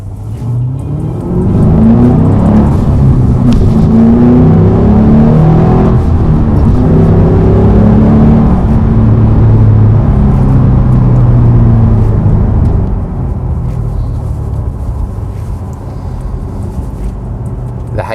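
HSV Maloo GTSR muscle ute with its 435 kW engine revving hard up close, a loud deep roar climbing and holding for about ten seconds before settling back to a rumbling idle.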